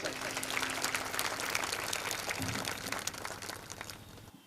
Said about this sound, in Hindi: जोरदार तालियों से इस्तकबाल कीजिए, स्वागत कीजिए एमडी नसीम खान सर का।